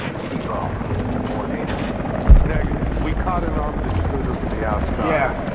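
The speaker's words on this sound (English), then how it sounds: "Command post 2, last chopper out." Helicopter in the video game Rise of the Tomb Raider, a steady rotor drone running throughout under radio-style dialogue, with a single sharp thud partway through.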